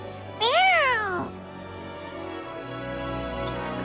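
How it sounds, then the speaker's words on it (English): A cat in the video game Duet Night Abyss lets out one clear, drawn-out meow close by, followed by quiet game ambience. "Let's follow that cat."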